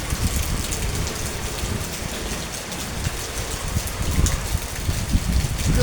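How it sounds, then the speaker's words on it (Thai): Heavy rain pours steadily, a dense close hiss of drops pounding a surface with no voices, swelling slightly toward the end. "ฝนตกอย่างแรงเลยนะ"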